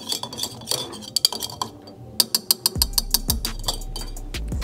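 Lemon juice and cocktail ingredients being muddled in a glass, a muddler knocking and clinking in a run of sharp taps that turn steadier and thumpier in the second half, close and clear with no talking.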